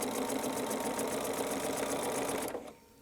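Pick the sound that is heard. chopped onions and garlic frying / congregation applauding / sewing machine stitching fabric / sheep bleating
sewing machine stitching fabric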